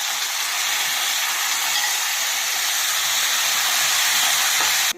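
Chicken liver frying in a pan with onions, coriander and curry leaves, a steady loud broadband sizzle and hiss that runs unbroken throughout with no voices.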